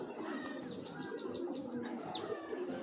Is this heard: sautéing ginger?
no